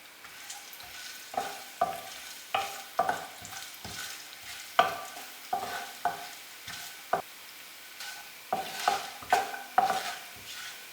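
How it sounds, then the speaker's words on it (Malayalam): Coconut pieces, nuts and raisins frying in ghee in a kadai make a soft sizzle, broken by regular clinks and scrapes of a spoon stirring against the pan, close up and without talk. "നമുക്ക് കടായിലേക്ക് കുറച്ച് നെയ്യ് ഒഴിച്ച് തേങ്ങാക്കൊത്ത് നട്ട്സ് കിസ്മിസ് എല്ലാം ഒന്ന് മൂപ്പിച്ചെടുക്കാം"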